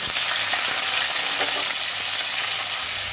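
Cumin, nigella seeds, five green chilies and prawns fry loudly in hot mustard oil, a dense, constant crackling sizzle with faint stirring underneath.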